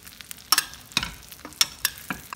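Curried cauliflower sizzles in a hot pan while being basted, with crisp, irregular spattering bursts and clinks over a soft frying hiss, close and fairly quiet, with no voices.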